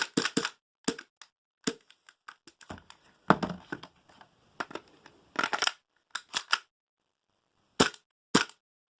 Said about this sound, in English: So shooting with the suppressor on.